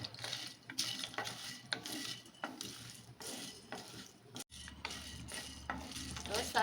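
Whole tea masala spices stirred and roasting in a pan, dry scraping and clinking of a spoon against metal in repeated strokes with a faint sizzle, close and steady, with no talk.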